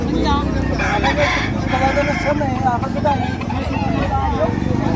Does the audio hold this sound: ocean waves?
no